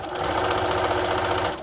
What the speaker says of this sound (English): you're just gonna continue sewing to the end of the bias tape